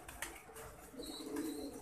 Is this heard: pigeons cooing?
yes